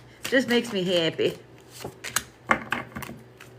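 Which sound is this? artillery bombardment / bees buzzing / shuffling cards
shuffling cards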